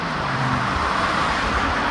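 Steady traffic rolls along Highway 412 in Siloam Springs, Arkansas, a continuous broadband roar of passing cars and vehicles, fairly loud and unbroken, with no distinct individual pass-bys.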